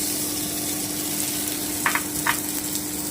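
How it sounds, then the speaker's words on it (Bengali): Mung dal frying in oil previously used for nuts and raisins, a steady dense sizzle close up with a couple of faint scraping stirs, no talking. "এবার এই তেলেই আমি মুগের ডালটা একটু ভেজে নিচ্ছি"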